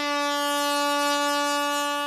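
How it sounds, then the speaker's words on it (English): A loud, sustained blast from an air horn that Southport, Queensland residents used to drive off bats in their neighbourhood, a single steady, piercing tone held for the full two seconds. "She and her husband were forced to hand over air horns they've been using to fend off an invasion of"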